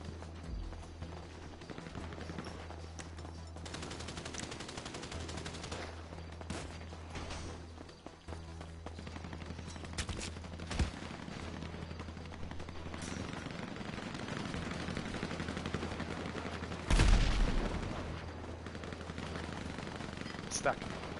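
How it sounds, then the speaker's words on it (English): Video game gunfire crackles in repeated bursts and single shots over a continuous low rumble, with a louder cluster of shots late on and a player's voice talking now and then. "I'm shooting at two other people"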